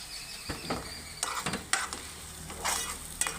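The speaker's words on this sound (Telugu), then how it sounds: "నూనె తాగిన దాకా ఉల్లిపాయలు కలిపి వేగించుకున్నానండి" Onions stir-fried in oil with curry leaves and green chillies, a quiet steady sizzle broken by irregular scraping stirs of a spatula against the pan, close by.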